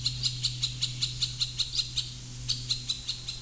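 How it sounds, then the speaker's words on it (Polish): A young tawny owl in old forest gives a rapid, regular series of high, thin calls, about five a second, pausing briefly before resuming over a low steady hum. "Młody puszczek nawoływał."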